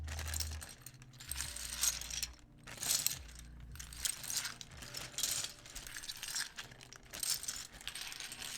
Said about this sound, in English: let's put the keycaps away